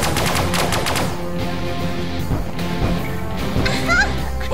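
Pulse lasers fire in the space-combat video game Sunrider, a rapid, loud burst of repeated zaps that gives way to a dense wash of blasts and electronic effects, with no talking.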